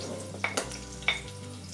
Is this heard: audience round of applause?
no